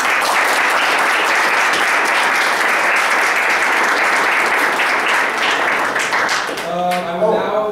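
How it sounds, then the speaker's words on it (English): An audience at a university senate meeting bursts into dense, loud applause that holds steady for several seconds, then fades as a voice begins speaking at the end. "your clapping reminded me of this"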